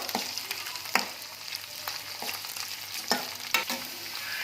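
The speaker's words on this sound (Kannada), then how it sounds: "ಇವಾಗ ಚೆನ್ನಾಗಿ ಹುರ್ಕೋಬೇಕು" Okra (bendekayi) being stir-fried for a dry palya, a spatula scraping and tossing the pieces in a pan in irregular strokes over a soft, steady sizzle, close and fairly quiet.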